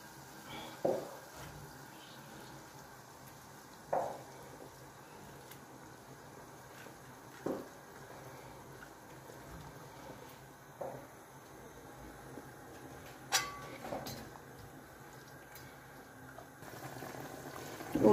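Red bell peppers quietly sizzle and bubble in a pan, a soft steady hiss with occasional louder pops and clinks spaced a few seconds apart.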